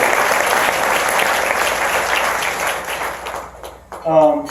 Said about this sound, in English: Please give them a round of applause, even if you may not want to.